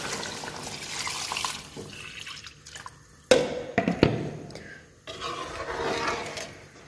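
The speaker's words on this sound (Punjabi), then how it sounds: "ਪਾਣੀ ਪਾਈਏ।" Water poured into a cooking pot for a dal dish: splashing and dripping bursts come in the middle after softer kitchen noise, followed by a gentler running-water wash, with no talking.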